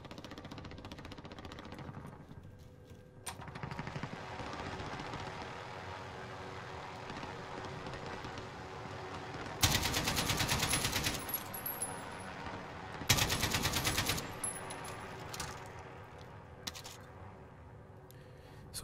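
Two loud bursts of rapid gunfire in Call of Duty: Modern Warfare Warzone cut through a low, steady engine hum.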